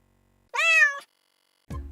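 Cat meowing in the video game Cat President: A More Purrfect Union, one clear, drawn-out meow followed after a pause by the start of a second, loud and close over silence.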